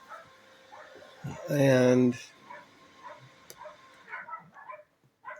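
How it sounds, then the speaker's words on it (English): Indoors, a dog gives one loud, drawn-out bark or yelp near the start, followed by fainter scattered sounds. A voice is heard briefly nearby. "my dogs are barking."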